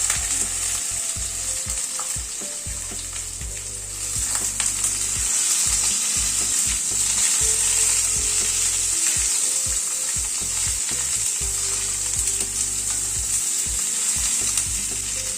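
Eggplant and pumpkin pieces sizzle steadily in a hot pan with pumpkin leaves, a continuous close frying hiss with occasional stirring scrapes and no talk.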